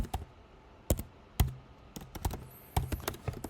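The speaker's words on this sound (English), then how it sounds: "But I just like typing it out just for me." Someone types on a computer keyboard in short irregular bursts, with crisp close key clicks and taps spaced by brief pauses in a quiet room. No one speaks.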